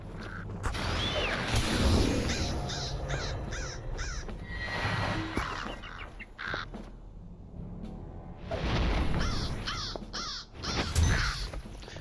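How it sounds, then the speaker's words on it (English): Crows in Lord of the Rings Online caw repeatedly in harsh, overlapping bursts, loud and near, in two main clusters separated by a brief lull, with mechanical creaking beneath and no talking. "It sounds like crows."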